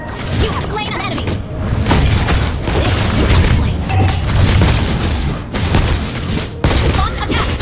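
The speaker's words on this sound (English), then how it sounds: "Explosion is coming." Explosions in the mobile game Mobile Legends: Bang Bang come as loud, punchy booms and bursts in quick succession, mixed with whooshing effects and game voice announcements throughout.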